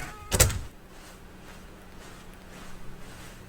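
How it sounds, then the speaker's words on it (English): A door opens in The Stanley Parable Ultra Deluxe, one short loud thump-like burst near the start, then a quiet room tone for the rest. "When Stanley came to a set of 2 open doors, he entered the door on his left"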